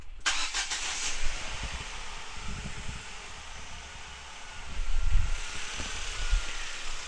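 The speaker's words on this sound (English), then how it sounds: "And I'm going to start the engine." A parked car's engine cranks briefly and catches, then settles into a steady idle with a faint fan-like whoosh, close and fairly loud, during misfire diagnosis.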